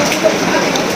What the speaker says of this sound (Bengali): বাইরে শুরু হয়ে গেছে বৃষ্টি